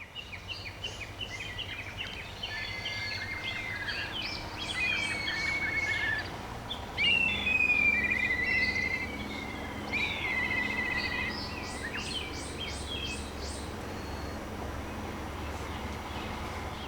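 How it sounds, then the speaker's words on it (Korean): Black kites circle over a coastal hillside, their shrill whistling calls rising and falling repeatedly at a distance above steady wind and surf-like background noise, with other small bird chirps mixed in. "외부 침입자들을 눈치챈 솔개들은 계속 하늘을 빙빙 돌며 요란한 울음소리를 냈다"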